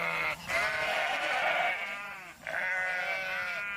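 Goats and sheep graze in flocks on a hillside farm pasture in Jangang County, and two drawn-out quavering bleats rise one after another, fairly quiet and with no talk.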